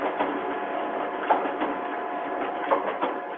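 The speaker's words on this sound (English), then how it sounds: "My printer, sorry." An office printer running nearby, a steady mechanical whir with soft periodic clicks and rolling thumps as the paper feeds, heard alone.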